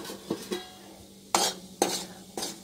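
Cumin seeds crackle in a hot kadai: sharp popping bursts, a few scattered snaps followed by louder sizzling spurts at irregular intervals, close by with no talking.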